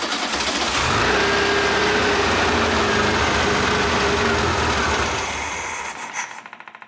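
A 1975 Volkswagen Super Beetle that sat for 20 years runs on choke in a steady, loud idle, close by, then the engine note drops away and cuts off near the end.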